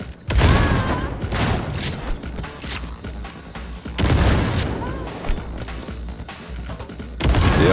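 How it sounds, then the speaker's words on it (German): In the Cyberpunk video game, grenades explode alongside heavy gunfire in loud, booming bursts that recur every few seconds, with rattling shots and crashes in between. "Spammen wir sie voll mit Granaten."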